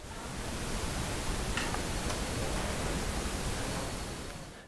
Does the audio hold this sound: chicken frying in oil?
no